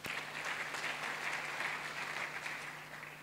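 Church congregation at a sermon breaks into steady, moderately quiet applause, a dense even patter of many hands sustained across the whole stretch with a low hum underneath.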